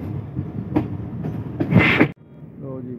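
A passenger train at Lodhran junction beginning to move off, with a low rumbling of rolling wagons and a louder surge of noise before a brief drop, heard close by along with faint voices.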